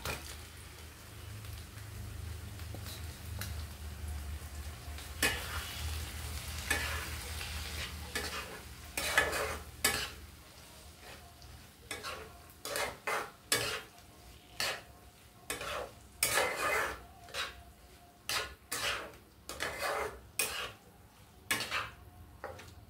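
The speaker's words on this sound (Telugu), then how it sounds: "ఇప్పుడు మనం ఈ మగ్గించుకున్న ఈ పొట్లకాయ ముక్కలు వేసేసుకుందామండి." A spoon stirs ridge gourd pieces through a dry moong dal and tomato curry in a pan: a soft sizzle underneath, then a run of quick, distinct scraping strokes growing regular and close in the second half, with no talking.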